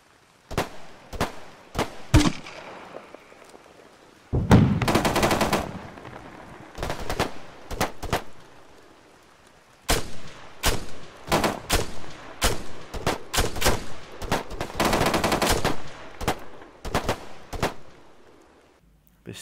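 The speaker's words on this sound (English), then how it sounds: "those sonic cracks at full volume are terrifying" Sharp bullet cracks and bursts of machine gun fire in the military shooter ARMA 3, loud and close, arriving in rapid clusters with short pauses and a dense sustained volley near the middle.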